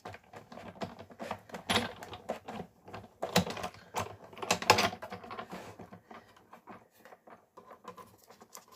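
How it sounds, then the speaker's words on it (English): Paper and a die sandwich being cranked through a manual die cutting machine, giving a busy run of clicking, ratcheting mechanical patter that is loudest midway and thins toward the end, with no talk. "we're going to put our sandwich top on and crank it right through."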